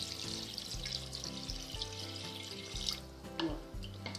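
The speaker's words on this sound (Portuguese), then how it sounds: "Vou colocar o coentro, olha, e vou cobrir com água" Water runs steadily into a pot of chicken gizzards and cilantro, a continuous hissing splash with faint clinks and dull knocks underneath, fairly close and without any talking.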